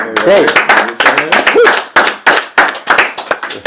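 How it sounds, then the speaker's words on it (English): A small panel of people gives a round of applause: distinct, close hand claps in an uneven burst, with voices talking and laughing over them. "Let's give a round of applause for growth."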